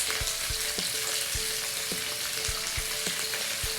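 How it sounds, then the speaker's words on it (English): Grease sizzles steadily in a hot pan as it heats for cooking steaks, a dense continuous frying hiss with scattered pops and a few sharp metallic clicks, close and fairly loud, with no talking. "So we have our grease getting hot over here for our steaks."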